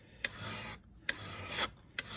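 A MoraKniv knife spine is filed flat in three separate rasping strokes, each opening with a sharp bite and fading into a broad scraping rush, close and fairly quiet, with no talking.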